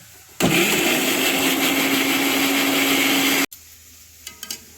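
Green chilies and ginger ground into a paste with an electric mixer grinder, a loud steady motor whir running for about three seconds, then cutting off abruptly, followed by a few faint clicks.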